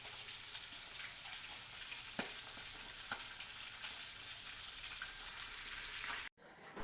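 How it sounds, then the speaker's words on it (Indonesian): Soybeans simmer over low heat in the first boiling for making tempeh, giving a steady, dense bubbling and sizzling hiss with a few sharper pops, continuous and close, ending abruptly. "pada proses perebusan pertama menggunakan api yang kecil."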